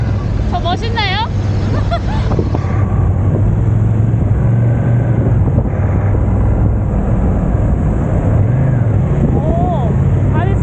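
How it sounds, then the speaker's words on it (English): A Ducati Scrambler motorcycle runs on a winter test ride, its engine droning steadily under heavy wind buffeting, with a rider talking briefly over it. "The Ducati Scrambler was really smooth and light."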